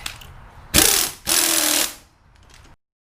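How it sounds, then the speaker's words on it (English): An impact gun loosens a sway bar link nut on a Mazda, two loud hammering bursts of about half a second each, close up in a garage, with no talk. "They say not to use an impact gun on this."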